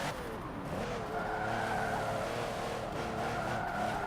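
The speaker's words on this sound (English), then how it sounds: "See, this car just wants to drift." Tires squealing in a long, steady screech as a car drifts through a turn in Forza Motorsport 7, engine droning loudly underneath without pause.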